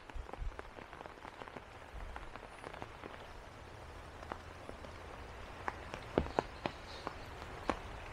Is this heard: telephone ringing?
no